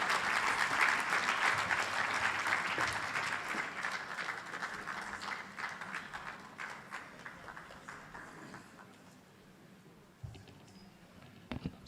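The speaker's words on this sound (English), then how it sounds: "can we give another round of applause to the Honorable Minister?" Sustained audience applause at the opening of the Uganda Diaspora Convention 2025, loud and dense at first, then thinning and fading toward the end with a few scattered claps.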